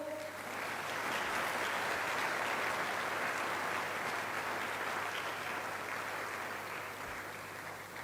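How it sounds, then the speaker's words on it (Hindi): Audience applause welcoming Bana Singh at an inauguration event at IIT Kanpur, a broad, steady wash of many hands clapping that swells and holds for several seconds before easing slightly. "सभी से अनुरोध है कि तालियों से श्री बाना सिंह जी का जोरदार स्वागत करें"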